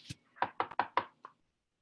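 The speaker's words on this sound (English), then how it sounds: "A knock on the door" Five or six sharp knocks rap on an apartment door in quick, uneven succession, crisp and close, with a faint final tap.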